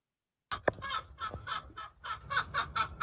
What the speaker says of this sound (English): This is the chickens.